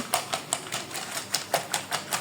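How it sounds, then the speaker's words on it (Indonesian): A whisk beats a peanut mixture in a bowl, giving a steady, rapid series of close, crisp tapping strokes at an even rhythm, with no voices. "Nah sekarang saya kocok dulu menggunakan whisker"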